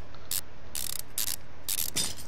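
Repeated mechanical ratcheting bursts of screws being unscrewed in the Car Mechanic Simulator 2015 game, four short clicking whirs spaced about half a second apart over a steady low hum, fairly quiet with no talking.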